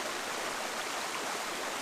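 A waterfall in Glencoe roars as a steady, broad rushing wash, dense and unbroken throughout, heard from fairly close with no talking.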